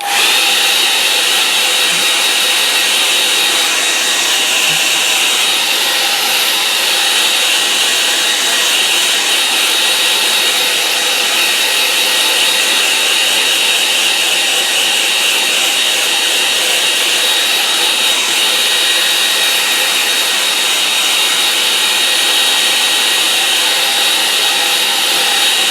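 A hair dryer blows steadily and loudly at close range over a watercolour painting, a continuous unbroken roar with no pauses or talk.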